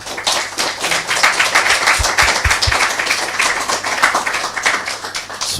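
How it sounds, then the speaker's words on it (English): Audience applause after a devotional talk by a speaker at a spiritual retreat, a steady close round of many hands clapping that holds at an even level throughout. "let's give a round of applause to His Grace Dinabandhu Prabhu"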